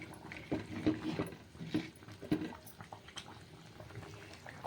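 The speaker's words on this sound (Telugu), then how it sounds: "కొత్తలానే ఉడుకుతుంది కూర అయితే." Crab curry bubbles in a pot on the stove, a soft, uneven simmer of pops and gurgles that recur every second or so, close but quiet, with no talk.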